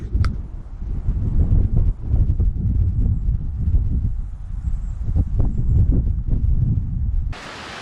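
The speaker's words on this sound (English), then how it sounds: "you can probably hear that wind" Strong wind blowing through the White Mountains at night, a steady low roar with gusts rising and falling continuously and buffeting the microphone, with no speech.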